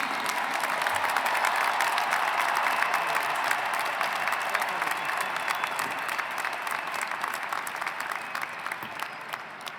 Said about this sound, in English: let's please give Raul one more round of applause